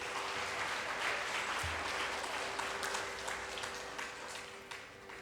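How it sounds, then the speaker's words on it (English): An audience gives music school students a full round of applause: a sustained, even wash of many hands clapping at a distance, with a faint steady hum underneath. "Give a big round of applause to the students first."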